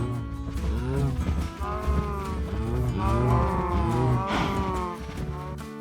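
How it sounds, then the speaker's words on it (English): Several cows moo in a video game, overlapping low drawn-out calls one after another, loud and close with no talking. "But first I need to feed the cows because we still need a whole lot more of them."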